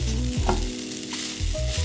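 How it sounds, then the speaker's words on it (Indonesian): Fried rice made from freshly cooked rice frying in a pan, a steady close sizzle with scraping stir strokes, no talking. "Kalau masak nasi goreng dari nasi yang baru matang tuh gini tuh"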